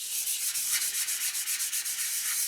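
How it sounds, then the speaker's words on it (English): Steady rubbing and sanding-like friction as sealer is worked onto a wooden wok carved from honey locust, close and continuous with soft rhythmic strokes and no talking. "I'm still going to put some more sealer on this"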